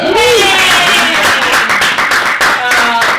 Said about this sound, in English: My parents really appreciate the applause